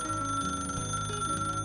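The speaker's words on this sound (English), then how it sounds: "That train of thought was abruptly interrupted by Yaginuma's phone" A phone rings with a steady electronic tone, loud and continuous, with no talking.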